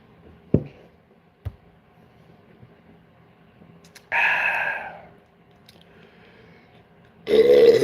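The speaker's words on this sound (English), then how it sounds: "That was the burp of failure" A loud, rasping burp rolls out for under a second from a man on a live basketball fan talk stream, following a couple of sharp knocks, with another noisy burst near the end.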